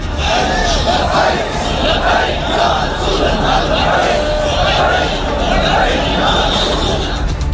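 A large, dense crowd at a TLP rally shouts and chants together, a loud, sustained roar of many voices with rising calls and whoops rolling through without pause.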